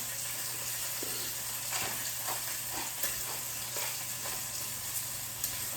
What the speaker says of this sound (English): we're just gonna get some fat out of this, get some flavor rendered down